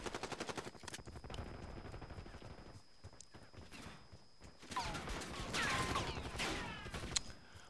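Rapid automatic gunfire in the shooter game Black Ops 6 rattles in dense bursts, pausing briefly before resuming with heavier shots and ringing impacts, loud and continuous with no talk over it.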